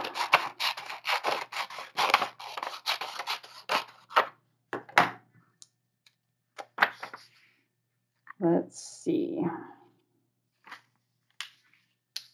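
Scissors cut paper for a collage in a string of quick, close snips and rustles, broken by pauses, with a voice talking between some of the cuts.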